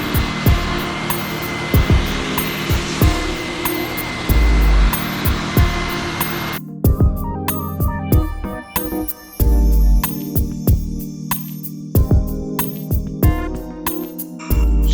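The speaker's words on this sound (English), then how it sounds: "make sure that the dryer is not touching the body, otherwise it will leave the scratches" Car dryer blowing water off a car's body, a loud steady blower whine that shifts in tone midway, with repeated knocks and handling noises over it and no talk.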